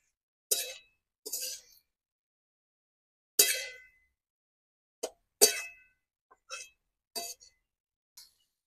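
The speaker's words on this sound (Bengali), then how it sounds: "তো চলো ভালো করে নাড়িয়ে নেবো এটা আমি" Metal utensil scraping and clinking against a cooking pan while potatoes and prawns are stirred, in about nine short, sharp, separate strokes with quiet gaps between them, close by.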